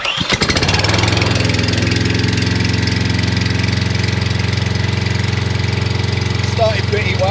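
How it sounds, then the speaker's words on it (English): A STIHL mulching lawn mower engine starts and runs loud and steady nearby, a continuous mid-pitched putter with a faint rhythmic knock throughout, while someone talks over it. "So you have to hold that on to get the engine going."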